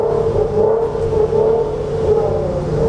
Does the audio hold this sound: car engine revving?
yes